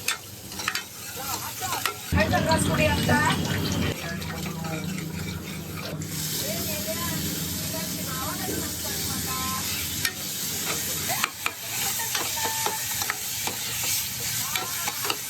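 Cumin, onion and tomato frying in oil in a home kitchen pan, a steady sizzle with stirring scrapes, while people talk nearby through much of it.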